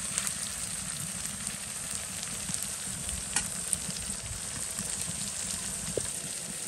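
Onions fry in a pan in a home kitchen, giving a steady, close crackling sizzle with occasional sharper pops and light stirring, no voices.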